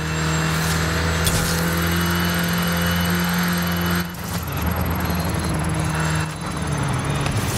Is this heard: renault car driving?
yes